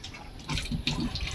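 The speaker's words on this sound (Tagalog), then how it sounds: "Yan ang tubig, lakas na." Tap water gushes strongly in short irregular bursts, splashing and gurgling close by against a steady watery hiss.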